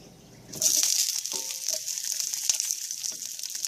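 Onions hit hot vegetable oil with a sudden loud sizzle that settles into a steady, bright crackling hiss with scattered small pops, heard close and without talk.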